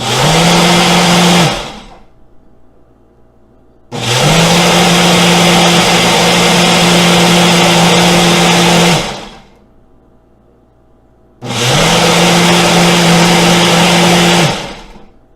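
A Ninja blender runs in three loud bursts of steady whirring, each lasting several seconds, with short quiet pauses between them and no voices.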